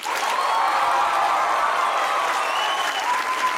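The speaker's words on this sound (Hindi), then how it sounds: "तो बजाइए तालियां।" Studio audience applause on a Pakistani comedy talk show, a steady, full wash of clapping from a crowd, continuous and even for several seconds.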